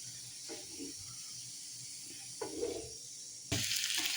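Fish frying in masala paste in a pan, a soft steady sizzle and hiss with a few faint stirring sounds, rising to a louder crackle near the end.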